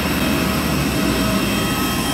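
A large passenger airplane at an airport gives off a loud, steady jet engine roar with broad rushing noise and no breaks, close by and filling the whole moment.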